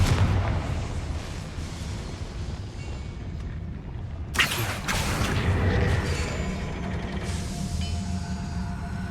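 A Confringo blasting spell goes off in Hogwarts Legacy, a sharp boom at mid-clip that leaves a rumbling, crackling tail over a steady low background drone, with a second burst of brighter noise near the end.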